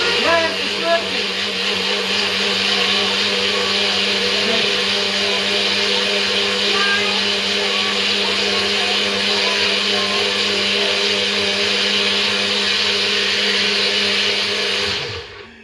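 A blender whirs steadily and loudly while blending watermelon into a smoothie, a continuous motor drone running nearly the whole time before cutting off abruptly at the end.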